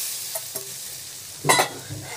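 Food sizzles quietly in a pan, with a few clinks and a brief louder scrape of stirring partway through.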